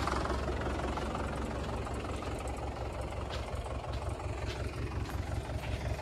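A tractor engine drones steadily while it pulls a plough through hard, rain-trampled field soil, a low continuous rumble with faint knocking, moderately distant and unbroken by talk.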